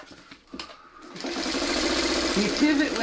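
A sewing machine stitching a quilt block, its motor whirring in a steady, close run that builds after a short pause, with a brief bit of quiet talk near the start.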